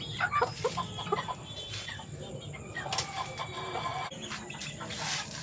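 Black stag gamecocks, young roosters, cluck and stir at close range, with wing flaps and scattered calls over steady low farmyard noise.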